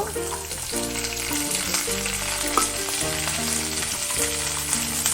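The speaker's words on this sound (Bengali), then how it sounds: "গাজরটা ভাজা হয়ে গেছে, এবার আমি বিনস দিয়ে দেব।" Carrots and beans sizzle loudly in a hot pan for chicken fried rice, a constant close frying hiss with occasional stirring, over soft background music.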